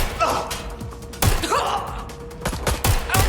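Gunfire in the video game Watch Dogs: Legion, a few muffled shots and thuds scattered over busy game ambience with breathy effort sounds.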